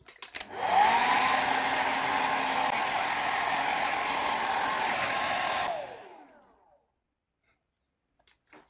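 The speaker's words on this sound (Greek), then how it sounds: "το βοηθάμε και λίγο με το πιστολάκι" A hair dryer blows steadily to dry paint on a gold lettering background, a loud continuous whoosh starting abruptly, holding for about five seconds, then cutting off and winding down into silence.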